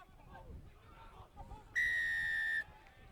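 A referee's whistle at a 2019 Premier Grade rugby major semi-final between Nedlands and UWA gives one long, loud, steady blast of nearly a second, rising sharply above a low murmur of crowd and ground noise.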